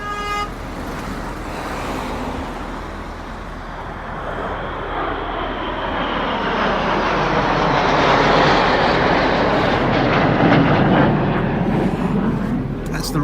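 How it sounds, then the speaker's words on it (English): The Royal Air Force Red Arrows jet aerobatic team flies past overhead, a rising jet roar that swells to a loud peak around the middle and stays strong, with a voice speaking underneath. "That's the jet aerobatic team for the Royal Air Force."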